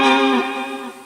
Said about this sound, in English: An intelligent pitch shifter.